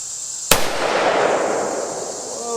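A single sharp crack of a .357 Magnum revolver fired at body armor, loud and close, with a bright ringing tail and echo fading over about two seconds outdoors.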